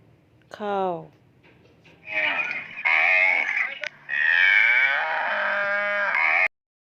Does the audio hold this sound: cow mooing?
yes